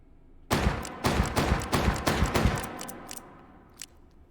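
Shots from an S&W Schofield single-action revolver in the H3VR virtual-reality game: a loud, sharp report, then a quick string of about five evenly spaced bangs with short echoing tails, and a faint final click, no voices.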